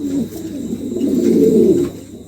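A pair of fancy pigeons coo softly and steadily, a low warbling murmur that swells and rolls for a couple of seconds, close and alone.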